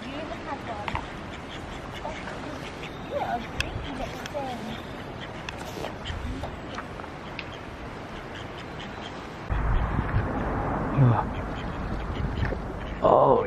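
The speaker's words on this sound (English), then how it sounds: "Oh, you're feeding the ducks by hand." Ducks quack repeatedly and close by as they are fed bananas by hand outdoors, while people chat over the noisy, busy scene, and a louder burst of activity comes near the end.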